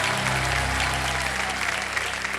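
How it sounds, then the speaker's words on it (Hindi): Sustained applause from a television game-show studio audience on Kaun Banega Crorepati, a dense, even wash of clapping at steady volume. "अब ताली बजती रहेगा"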